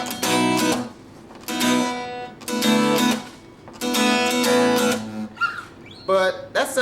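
Strummed acoustic guitar chords voiced with full root notes, ringing in several bright sustained bursts with short gaps between them, played alone and close up.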